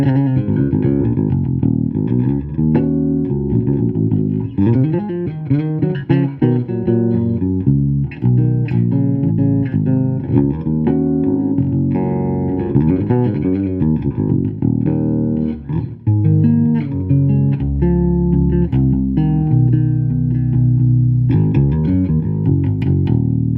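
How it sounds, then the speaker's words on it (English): Electric bass from a 1978 Gibson RD Artist on its bridge pickup alone, played clean and steady, a bright, somewhat thin tone with continuous notes and chords, loud and close, no voices. "This is the bridge pickup on its own with everything turned off"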